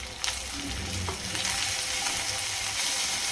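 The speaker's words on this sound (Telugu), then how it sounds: "ఈ అల్లం వెల్లుల్లి పేస్టు వేగుతుంది కదా" Ginger garlic paste and ground masala fry in a pan for a prawn and gongura dish, a steady close sizzle with occasional scrapes and stirring clicks, no voices.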